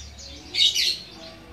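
A brief burst of high chirping from a green leafbird and white-eye birds, a short bright cluster of calls against quiet outdoor background noise.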